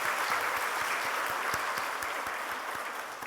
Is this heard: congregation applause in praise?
yes